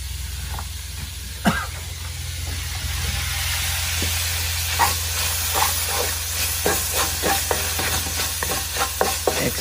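Tomatoes go into curry paste sizzling in a pan, giving a steady frying hiss with a sharp clatter near the start and repeated scraping stir strokes building in the second half.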